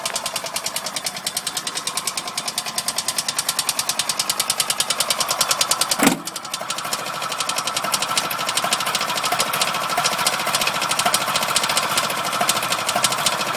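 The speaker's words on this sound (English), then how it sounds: "Little 250cc Harley engine." A 1973 Harley-Davidson golf cart's 250cc engine runs close and loud with a rapid, steady, pulsing putter throughout, broken by one sharp click partway through.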